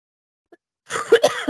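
After near silence and a tiny click, a person lets out a sudden close cough, a couple of harsh bursts in quick succession.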